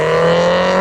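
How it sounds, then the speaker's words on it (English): A loud BMW E36 3 Series pulls away from a car meet, its engine giving a steady, droning hum close by that holds even throughout, with no voices over it. "a loud E36 3 Series leaving as well"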